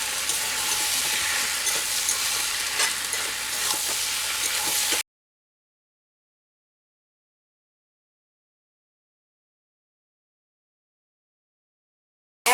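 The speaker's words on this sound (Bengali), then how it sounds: "খুব ভালো করে মশলার সাথে আমি কষিয়ে নেব।" Potatoes frying with spices in a pan for jackfruit dal, a steady broadband sizzle with stirring for about five seconds before cutting to silence.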